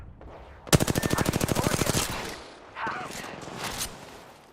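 A fast, loud burst of automatic fire in the battle royale shooter Apex Legends, steady rapid shots for about a second, then quieter game noise and a brief voice.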